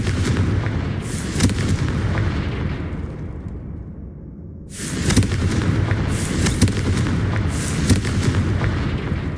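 Confringo spell blasts in the Hogwarts Legacy video game, loud booming explosions in a dense rumbling stream that drops briefly to a quieter lull before erupting again, close and without talk.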